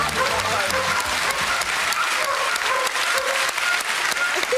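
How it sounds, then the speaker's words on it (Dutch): A studio audience at a televised World Animal Day show breaks into sustained, dense applause, a loud continuous clatter of many hands with a faint murmur of voices beneath it. "En nu applaus, dames en heren."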